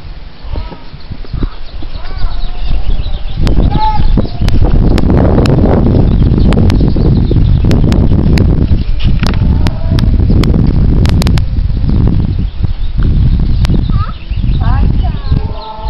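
A herd of cows walks home across the ground, hooves thudding and clopping in an irregular patter under loud close voices and occasional animal calls.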